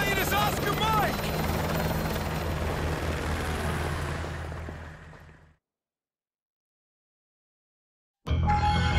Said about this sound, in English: Use my helicopter.